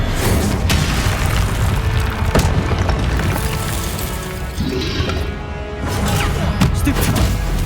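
Confringo explosion spells in Hogwarts Legacy burst as repeated booming blasts and cracks over a busy, loud game soundscape, with several sharp impacts in quick succession.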